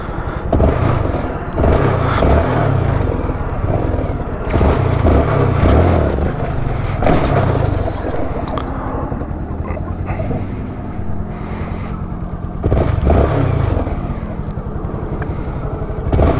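A Honda Grom motorcycle fitted with training wheels revs again and again during wheelie practice, its small engine rising and falling in loud, close surges with rough mechanical rattle in between.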